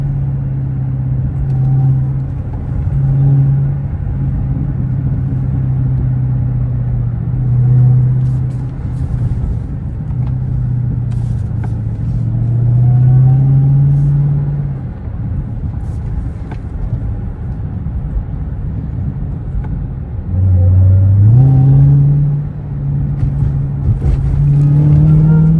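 A 2023 Dodge Hellcat Jailbreak Redeye on a night drive gives a deep, close engine drone that swells and rises in pitch through several accelerations, with a strong surge near the end.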